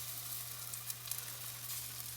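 Atayef batter sizzling on a hot pan, a steady close frying hiss that runs without a break and has a low hum underneath.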